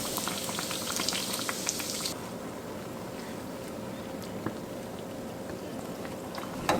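A custard doughnut frying in hot oil, giving a dense, even bubbling hiss that is brighter and louder for the first couple of seconds, then settles into a steadier, softer boil.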